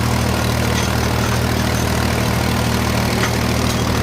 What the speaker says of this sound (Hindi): देखते हैं महिंद्रा 265 का दम आज 10 टन पे 1500 RPM पर पहुंच गया।